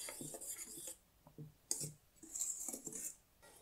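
Flour being gently folded into cupcake batter in a bowl, heard as soft, irregular scraping and light clinking strokes in short bursts, fairly close and quiet with brief pauses between.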